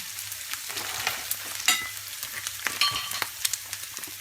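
Tomatoes go into a hot pan of home-made tantuni and sizzle loudly, with crackling bursts and the clatter of stirring scattered irregularly over a continuous frying hiss.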